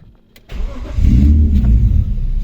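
A cold BMW M50 car engine cranks and catches after a short quiet moment, then settles into a loud, steady low rumble close by.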